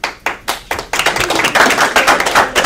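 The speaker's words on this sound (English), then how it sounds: "The trick is that you're still clapping at the end of this." Audience members at a Democratic club endorsement forum clap, starting as a few sharp separate claps and building into denser, louder applause close by.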